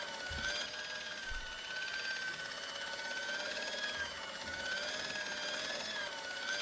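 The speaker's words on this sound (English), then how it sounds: "It was an industrial polishing machine with an odd-looking guy in tow." An industrial polishing machine drones steadily in a clinic corridor in the game Broken Sword, a loud continuous mechanical whine with a sustained tone and a few low thumps, no one speaking over it.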